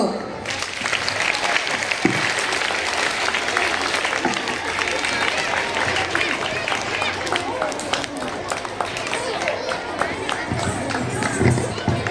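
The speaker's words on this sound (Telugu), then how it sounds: "చప్పట్లు." Children at a Sankranti celebration applauding, a dense, continuous burst of clapping from a crowd that lasts throughout, with faint background chatter.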